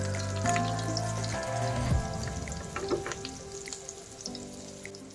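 Onion frying in a spoonful of olive oil for adobong kangkong, a steady close sizzle with light crackling and a few soft clicks, no talking.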